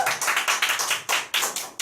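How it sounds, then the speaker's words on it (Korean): Slow, sparse hand clapping from a few nearby people welcoming a speaker to a wellness seminar, each clap crisp and distinct in an uneven rhythm, fairly quiet with no talking. "저희 김선영 사장님 앞으로 모실 때 뜨거운 박수 부탁드릴게요."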